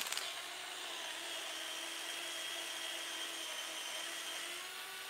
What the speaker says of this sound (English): this isn't a real drill, this is a screwdriver